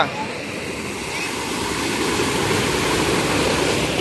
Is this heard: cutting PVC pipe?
no